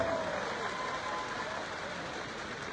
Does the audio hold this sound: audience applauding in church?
yes